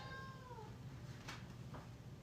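A house cat meows twice indoors, short close calls with a faint pause between them, quiet room otherwise.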